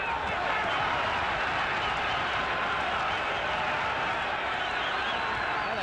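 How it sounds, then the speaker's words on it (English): A boxing crowd at Madison Square Garden cheers and roars in a continuous, dense wall of noise, with no breaks and no clear single voices. "Well, the crowd's jumping now."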